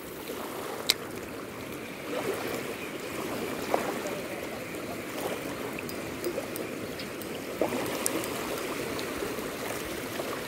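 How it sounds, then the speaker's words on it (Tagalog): Sea water laps steadily against a fishing boat, a constant wash of rippling water with occasional small knocks and splashes, moderately close and without talk. "Paiba-iba ang kalma ng dagat na ito mga ka-happy trip."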